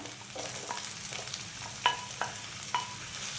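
Tomatoes sautéing in a pan with garlic and onion for Malvani-style suran bhaji, a soft steady sizzle broken by a few distinct clinks and scrapes of a stirring spoon against the pan.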